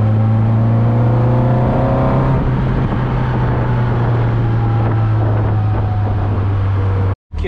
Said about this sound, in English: Again, I seem to have ended up next to a busy road.